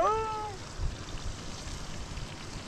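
A single cat gives one clear, close meow at the start, followed by quiet outdoor background noise in a nomadic setting.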